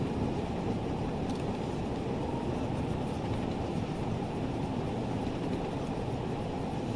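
Steam train rolling along in the video game Train Sim World 2, a continuous low rumble and rattle of the running locomotive and carriages, steady and fairly loud without pauses.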